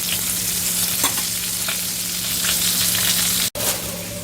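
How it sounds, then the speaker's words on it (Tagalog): Bangus (milkfish) frying in a pan, a continuous close sizzle with occasional pops and spatters and one brief dropout, with no speech. "Tapos may pritong bangus tayo."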